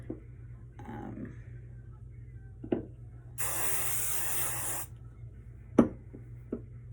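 Hairspray sprayed onto hair while getting ready, a single steady hiss lasting about one and a half seconds, set among quiet handling clicks and taps.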